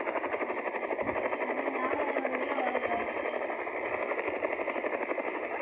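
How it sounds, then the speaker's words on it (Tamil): A helicopter in a car video game whirs with a continuous, steady rotor and engine drone, loud and unbroken, with a faint pulsing chop underneath. "இப்போது ஹெலிகாப்டர் வந்து தூக்கி போகுது கைஸ்."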